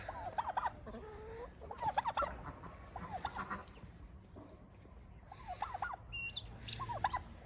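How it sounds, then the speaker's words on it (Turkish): Turkeys gobble repeatedly in rapid warbling bursts, with other fowl clucking around them at a moderate distance. "Hindiler."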